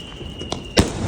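A single sharp firecracker bang goes off nearby during Diwali celebrations, preceded by a smaller pop, with a steady high whine and background crowd noise running throughout.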